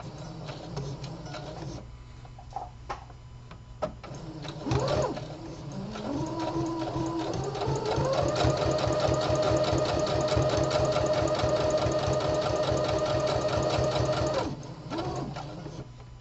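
Home sewing machine stitching a lapped seam in fabric, a rapid rhythmic mechanical clatter that speeds up into a steady fast run for several seconds, then slows and stops, with quieter handling sounds around it.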